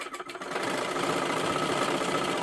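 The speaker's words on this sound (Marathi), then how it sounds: "आता इथे आपल्याला शिलाई करायला सुरुवात करायची आहे" A sewing machine starts stitching the neckline of silky fabric: a few uneven pulses at first, then a steady, loud mechanical whir running close up to the end, with no one speaking.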